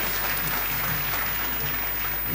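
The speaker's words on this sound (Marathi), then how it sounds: "जोरदार टाळ्या वाजवा" Sustained audience applause fills a hall at an astrology convention after a panel session, a dense, steady wash of hand claps at moderate level with no one speaking.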